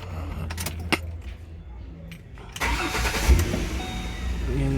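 A 2007 Ford Explorer started with a second key: keys jangle and click, then the engine cranks and catches into a loud, steady idle close by.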